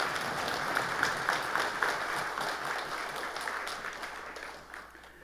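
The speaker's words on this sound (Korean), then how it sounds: "크게 박수로 하나님께 감사의 표시하십시오" Church congregation at a Sunday service applauding together, a dense, steady wash of many hands clapping that gradually thins and fades toward the end, with no talk over it.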